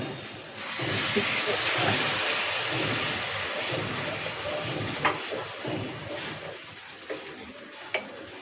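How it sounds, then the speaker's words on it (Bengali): Water is poured onto fried spices for a country-chicken curry, setting off a loud, continuous steamy hiss and bubbling simmer that lasts for several seconds, with a few faint clinks near the end. "দিচ্ছি মশলা সিদ্ধ হওয়ার জন্য একটু পানি"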